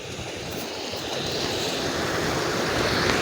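The Mahanadi river runs high, its flowing water making a steady broadband rush outdoors that slowly builds in loudness, with wind adding to the roar and no voices over it.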